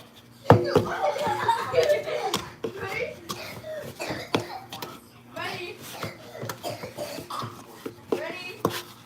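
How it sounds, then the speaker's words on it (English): A girl coughs several times in short bursts, mixed with childish chatter and a bit of laughter, fairly close. "You hear her coughing?"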